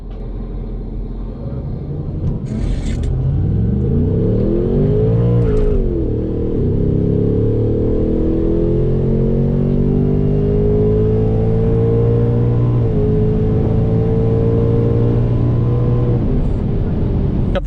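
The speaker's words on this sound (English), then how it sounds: "First pass in the 2024 Mustang GT." A 2024 Ford Mustang GT, two days old, launches on a drag strip pass, its engine roaring loud and close, pitch climbing through gear changes over steady rumble and wind.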